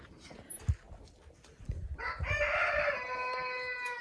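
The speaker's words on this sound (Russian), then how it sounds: "Вот еще курочки травку трескают." Chickens pecking grass in a yard give scattered soft clucks, then a longer, louder drawn-out crowing call rises over them; quiet and fairly close.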